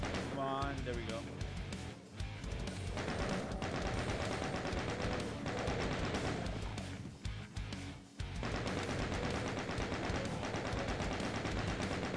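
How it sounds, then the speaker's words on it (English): Chaingun in classic Doom fires sustained rapid streams of shots, dense and loud, with a couple of short breaks, while a player talks over the gunfire. "go to chain gun real fast"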